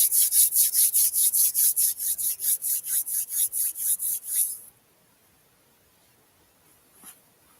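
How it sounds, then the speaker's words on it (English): Two hands rub briskly together in fast, regular strokes, a close dry swishing that runs for several seconds and then stops, leaving near silence. "So rub your hands together."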